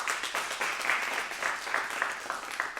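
An audience at a young poets' gathering in a television studio claps in a steady, moderately loud burst of applause that carries on without pause.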